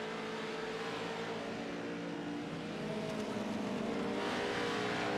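Pro truck racing engine at full throttle on the Bark River course, a continuous droning roar that swells slightly as the truck pulls away, steady and moderately loud without talk.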